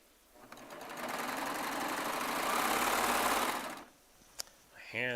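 A Baby Lock Triumph serger sews a 2.5 inch fabric strip in one fast whirring burst of about three seconds, then stops, followed by a short click and a brief squeak.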